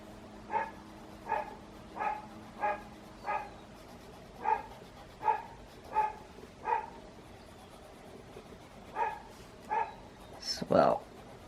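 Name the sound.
dogs barking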